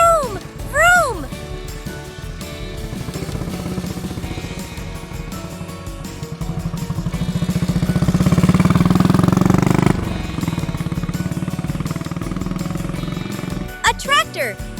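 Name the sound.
motorbike engine revving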